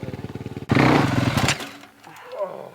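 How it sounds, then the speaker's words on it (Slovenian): Motorcycles on two wheels go from a steady pulsing engine drone into a sudden loud, rough roar that holds for about a second and then fades, with voices talking over it. "Garnbret, Janja Garnbret, evo ga na motorih, na 2 kolesih."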